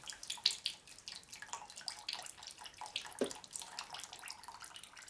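Fluid drains from a custom rigid bobber Harley chopper into a catch pan. It comes out as a steady watery trickle with scattered splashes and drips, fairly close but not loud, and no one speaks.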